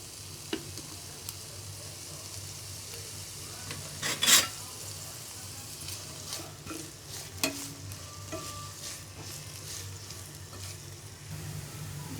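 Chopped onions, about one cup, fry in hot oil in a frying pan. A quiet, steady sizzle with occasional soft stirring clicks, and one brief sharper scrape midway.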